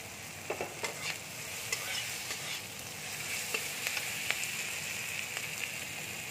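Green chillies fry in hot oil for a spiced brinjal dish, giving a dense, even sizzle with quick metallic stirring taps scattered through it, close up and without any voices.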